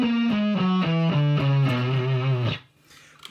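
An electric guitar with distorted tone plays a B melodic minor scale upward, single picked notes evenly spaced and stepping higher, ending in a ringing final note that quickly fades.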